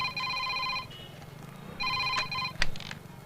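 A telephone rings in a scene from the Telugu action film Renigunta, with two bursts of electronic ringing separated by a short pause and followed by a brief thud or movement.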